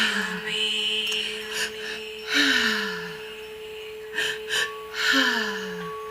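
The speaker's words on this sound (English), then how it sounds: "Allow this breath in." A slow, deep inhalation during a guided breathwork healing session, rising in short soft bursts over sustained tonal music with gliding low notes.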